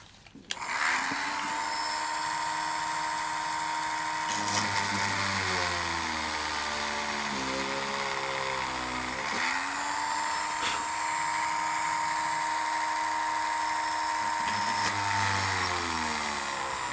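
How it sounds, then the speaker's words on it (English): A small drill boring 1 millimetre holes in a metal model locomotive body, a steady high motor whine running continuously, with pitch dipping and rising as the bit bites into the workpiece. "What we'll do is we'll drill 1 millimeter holes first,"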